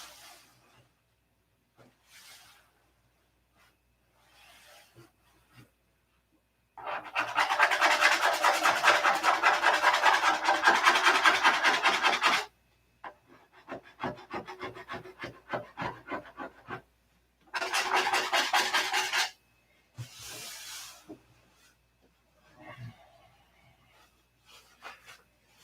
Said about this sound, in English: it'll just take a little spritz with an airbrush right there